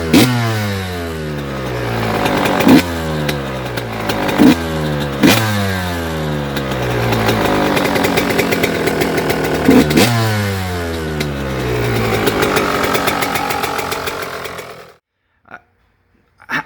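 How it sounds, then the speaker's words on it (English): A dirt bike fitted with an FMF Fatty pipe and Shorty muffler runs loud and close, rising and falling through repeated revs with a raspy, popping exhaust note before cutting off abruptly near the end. "I fired the bike up after doing these mods, and it fired right up."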